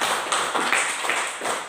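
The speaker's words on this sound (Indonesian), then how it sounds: "tepuk tangan dulu untuk kita semua" A class of schoolchildren applauds in a classroom, a brief burst of close, dense clapping that swells and fades over under two seconds.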